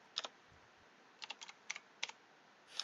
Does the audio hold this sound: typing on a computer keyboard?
yes